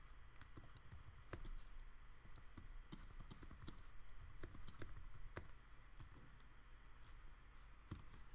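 Typing a message on a computer keyboard, a steady run of quick, crisp key clicks with uneven rhythm and occasional heavier strokes, close to the microphone, with no talking.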